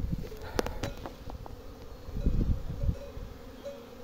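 Honeybees buzz around the entrance of a hive on a sunny spring day, a close, fluctuating hum of many wings with individual bees droning past and occasional faint rustles.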